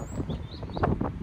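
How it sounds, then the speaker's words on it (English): Small robins chirp faintly in brief high notes beside a river near Grasmere in the Lake District, over steady wind noise and the low rush of water on a breezy spring morning. "tiny birds, robins,"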